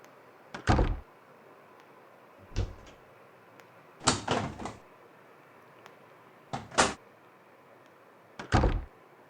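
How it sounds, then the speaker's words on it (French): Doors in the video game Teddy Freddy thud and clunk five times at uneven intervals, each a short, fairly loud knock with no talking. "Les portes, il les entend."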